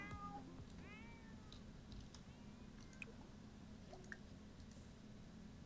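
A cat in The Sims 4 lets out a few quiet, rising meows early on, followed by faint wet clicks and drips over a low, steady game background hum.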